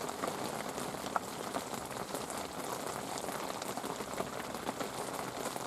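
Hail pattering onto a fishing umbrella during a thunderstorm in Manchester while carp fishing, a dense continuous rattle of small hard impacts with occasional sharper hits, close and steady.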